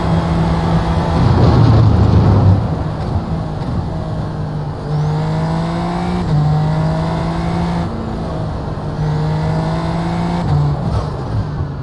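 SF Light race car in iRacing at the Algarve or Misano circuit, its engine droning loud and steady with repeated rising pitch sweeps through the gears and brief dips between shifts.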